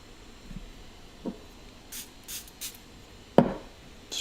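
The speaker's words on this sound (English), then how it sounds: "So just keep spraying it just so I want to keep it moving." A hand spray bottle mists a watercolor portrait study in a few short, soft hissing bursts, with faint taps and brush sounds in between.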